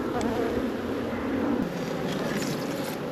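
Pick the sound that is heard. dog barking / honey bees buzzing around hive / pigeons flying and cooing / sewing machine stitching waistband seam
honey bees buzzing around hive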